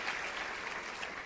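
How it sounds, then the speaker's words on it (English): A steady burst of audience applause at an education summit in 2012, dense and even throughout, with no voices over it. "Can we give them a round of applause also?"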